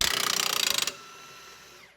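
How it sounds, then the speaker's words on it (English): Rapid ratcheting clicks from a wrench loosening the bolt and nut on a car's lower control arm during a coilover install, about a second of dense close clicking that stops, leaving faint metallic ringing and room hum. "He's taking the bolt and nut from both sides."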